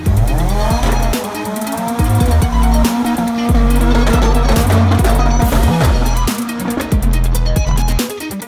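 Banger racing and National Hotrod cars roar around a small oval circuit at Aldershot Raceway, engines loud and continuous with repeated revving surges, tyre squeals and skids as the pack passes close by.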